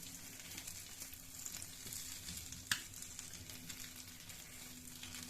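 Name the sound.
chicken vegetable sandwich edges browning in a pan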